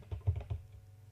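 Quiet, close typing on a computer keyboard while entering text in CorelDRAW, with a short run of about five soft key taps before the clicking stops.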